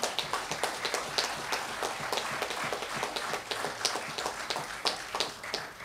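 An audience applauds at a Farmers Week opening ceremony, many hands clapping in a steady, moderately distant patter that holds for several seconds without talk.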